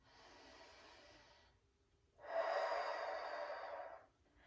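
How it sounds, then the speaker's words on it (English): Slow, deep breaths during a neck stretch: a softer inhale followed by a longer, louder exhale, close to the microphone in a quiet room. "Continue breathing deeply."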